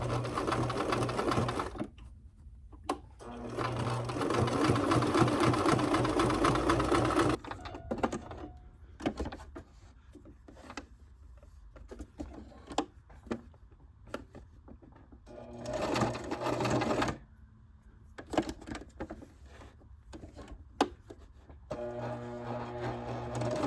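A sewing machine stitches fabric in an attic in several bursts, rapid mechanical whirring and clattering runs separated by short pauses, close and loud.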